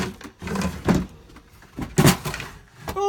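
Drawers sliding open inside a Jayco Eagle camping trailer, with a few bursts of rattling and scraping spread across a few seconds, loud and close, and no one talking.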